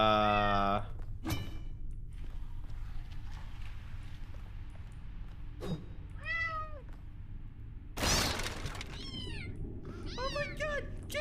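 A cat in The Talos Principle video game meows several times in short, rising calls, mixed with a few sharp thumps and clatters from the game.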